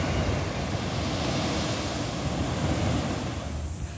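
Sea waves at Namea Surf Beach in South Korea make a steady broad roar of surf mixed with wind buffeting the microphone, continuous and fairly loud with no voices.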